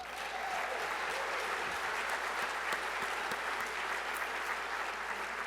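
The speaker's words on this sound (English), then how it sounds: "although you've been clapping all along" An audience at the 2021 Prix de West awards presentation claps steadily and fairly loudly throughout, a dense, sustained round of applause with no break.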